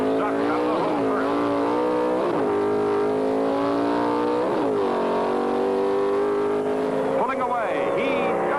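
1971 Pro Stock drag cars, including a Sox and Martin Plymouth, roar off the line at the NHRA Winternationals in Pomona, engines wailing loudly and steadily with shifts and revs, under an announcer talking.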